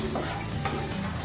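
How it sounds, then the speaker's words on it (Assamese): Spices fry in a pan for a fiddlehead fern dish, a soft steady sizzle with light stirring scrapes, quiet and close with no talk. "এতিয়া এই মছলাখিনি একেবাৰে ৰঙচুৱাকে ভাজি লওঁ"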